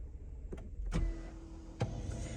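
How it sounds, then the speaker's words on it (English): A parked car being switched off from inside the cabin: a few sharp mechanical clicks and thumps, with a brief steady electric tone between them, close and fairly quiet against a low background rumble. "Let's turn off the car for better sound, maybe."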